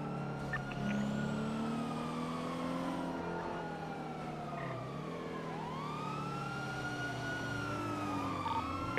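An ambulance convoy in a video game wails with layered sirens rising and falling continuously, loud and close, over engine and traffic rumble.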